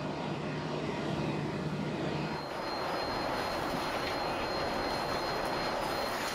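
A Boeing 747-8 jet roars steadily in flight during a flight load survey as pilots pitch it up and down, a constant broadband rumble whose tone shifts partway through.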